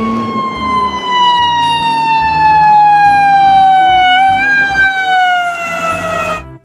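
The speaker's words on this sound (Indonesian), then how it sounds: "Kalau yang ini mobil ambulan." A toy ambulance siren wails loud and close, one long electronic tone sliding slowly downward with a brief wobble, heard alone before cutting off.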